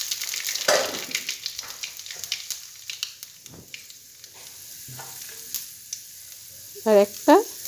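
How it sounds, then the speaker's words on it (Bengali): Bay leaves and black cumin sizzle in hot oil in a pan, with crackling bursts and stirring clatter up close that fade to a softer hiss, and a short voice near the end. "এখন আমি ফোড়নে তেজপাতা দিয়ে দিয়েছি, অল্প কালো জিরে দিয়ে দিয়েছি,"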